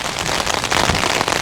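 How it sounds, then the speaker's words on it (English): Steady rain patters densely on a tent at Sprinkling Tarn in the English Lake District, a loud, continuous hiss with scattered sharper drop hits close by, heard alone without voices. "then it started raining, so we got in the tent about an hour ago"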